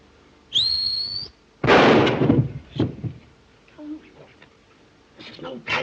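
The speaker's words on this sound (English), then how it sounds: "This is no time to whistle." A short, bright whistle rising then holding steady, followed by loud bangs and clatter, with scattered noises afterward.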